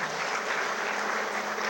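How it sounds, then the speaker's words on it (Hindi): Loud, dense applause from a large audience at a Hindi-language self-empowerment session held for a security services wing, a steady even roar of clapping lasting throughout with no voices. "जोरदार तालियां"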